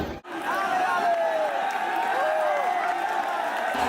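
A large protest crowd at Jantar Mantar in Delhi gives off a steady, dense murmur of many voices, with shouts rising out of it, filling the whole stretch after a brief dip at the start.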